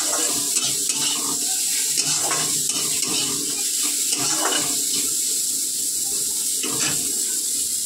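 Sliced bitter gourd fries in a pan, giving a constant sizzle with scraping stirs breaking in at intervals, close and clearly audible with no talk.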